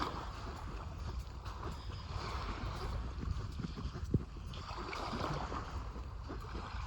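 Waves wash onto a foggy, calm beach in a soft, continuous surge. The sound is faint and distant, with light wind buffeting the microphone and no one talking.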